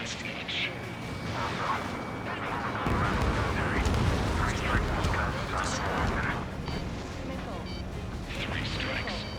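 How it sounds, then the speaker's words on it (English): Missile launches and explosions in the Ace Combat 7 Anchorhead Raid mission, a continuous loud roar of jet engines and booming blasts with radio chatter running over the top throughout. "Strider 1, missile launched."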